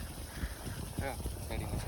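Strong gusts buffet the microphone in a steady rumbling roar at a campsite, with voices talking briefly underneath.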